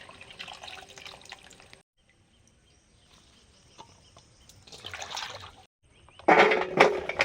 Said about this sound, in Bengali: শাকসবজিগুলো এবার ধুয়ে নিচ্ছি, বেগুন, আলু আর শাক, লাল শাক।